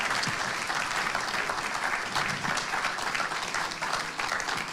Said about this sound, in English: Should we give John a round of applause?